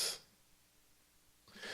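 A single quiet sneeze-like burst opens, followed by near silence, then a second breathy snort or gasp close by at the end.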